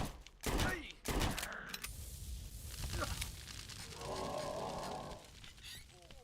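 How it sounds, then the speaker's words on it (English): Bursts of gunfire in Puppet Master: The Game, a couple of loud close shots up front followed by scattered quieter shots and crackle, with a voice talking over the action. "now he's just gonna hang out right there, just, you know, spam shots on me"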